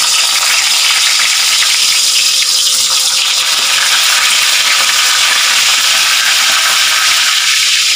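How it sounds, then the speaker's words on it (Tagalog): Hotdogs frying in a hot pan, a loud, steady crackling sizzle of oil that stays close and unbroken throughout, with no voices. "Ayan, papainit na ako ng kawali. Ayan. Salang ko na. Hotdog na."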